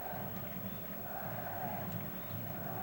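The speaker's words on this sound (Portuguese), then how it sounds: "A torcida grita o nome do Darley aí" Massed stadium crowd chanting a player's name during a 2002 Brazilian league match, Grêmio against Vitória; a steady, distant roar of voices that holds level throughout.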